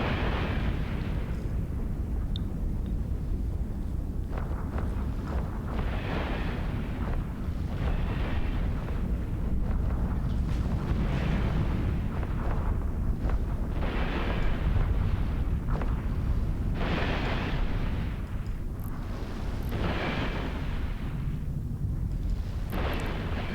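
Spaceship weapons fire and explosions rumble in EVE Online combat as hostiles are targeted in orbit: a dense, continuous barrage of booming blasts and bursts, loud and sustained with no pauses, no talking.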